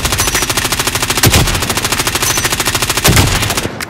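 Call of Duty Modern Warfare gunfire rattles in a loud, continuous automatic stream, with two heavier thumping impacts breaking through the rapid rhythm.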